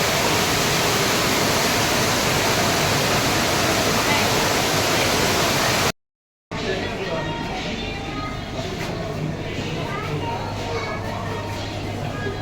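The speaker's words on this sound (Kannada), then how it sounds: "ಈ ಜಲಪಾತದಲ್ಲಿ ಬಂದು ನೀರು" Water rushes loudly down an aquarium waterfall in a continuous roar that cuts out briefly to silence midway, then returns somewhat softer and thinner.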